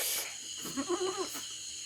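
A young goat gives one short, wavering bleat at a farm, faint against a background hiss, no voices.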